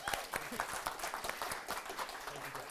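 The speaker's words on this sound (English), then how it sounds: "Let's clap it up for Maurice, y'all." An audience at a storytelling event claps for a speaker, uneven scattered hand claps at fairly low volume, with voices talking over the applause.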